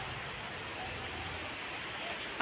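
Heavy first rain of the season falls outside, a dense, even hiss of rainfall heard steadily throughout with no distinct voices.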